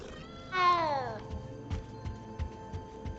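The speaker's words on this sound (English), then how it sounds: "Gotta pet the cat." In the Hogwarts Legacy video game, a cat gives one clear, drawn-out meow, followed by soft, regularly spaced footstep-like thumps over a quiet background hum.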